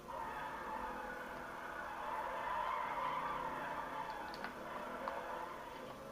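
A customized yellow gang car in GTA 5 skids through turns, its tires squealing in a sustained whine over the steady engine drone, loud and unbroken, with no voices.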